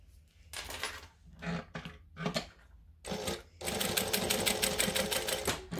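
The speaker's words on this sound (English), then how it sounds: "We're going to top stitch the other end." A sewing machine runs in several short bursts of rapid stitching, then one longer steady run while top-stitching the end of a fabric piece, loud and close with brief pauses between runs.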